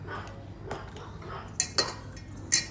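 Dough ingredients are stirred in a bowl with a utensil, giving faint scraping sounds followed by three sharp clinks of the utensil against the bowl near the end, close by and with no talking.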